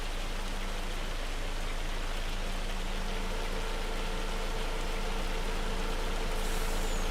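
Steady dense patter of hail and heavy rain in the Farming Simulator 25 game, a continuous even hiss with a low rumble underneath, unbroken and fairly loud throughout.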